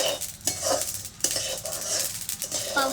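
Cumin seeds roasting in a pan while being stirred for a Solapuri kala masala, with a soft crackling sizzle and repeated scraping strokes of a spoon against the metal, close and steady.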